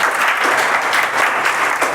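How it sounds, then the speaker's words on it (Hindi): Students at a coaching class clap for a test topper, dense continuous applause, loud and close, filling the whole moment without talk. "भाई तालियां बजाओ एक बार"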